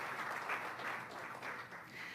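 An audience at an awards ceremony gives sustained applause, a dense wash of many hands clapping together at a steady level throughout.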